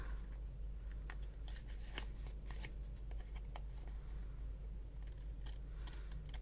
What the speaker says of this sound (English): Cut off the extra bits around the side.